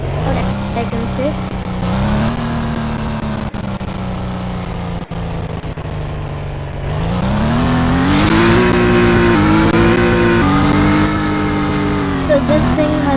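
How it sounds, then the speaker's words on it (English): A tuned Acura NSX engine in a video game drones loudly close by, holding a steady tone before climbing in pitch as it accelerates. "it's the Acura NSX which I fully tuned, and it sounds pretty good."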